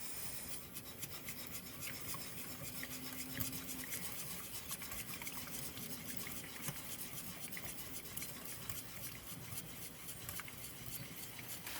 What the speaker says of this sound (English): And back to whisking.